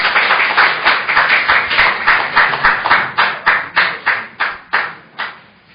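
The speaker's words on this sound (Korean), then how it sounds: "피해 생존자분들의 용기 다시 한번 큰 박수 부탁드리겠습니다." An audience at a survivors' testimony gathering claps together in a steady rhythmic beat of about fifteen sharp, loud claps that slow and fade out at the end.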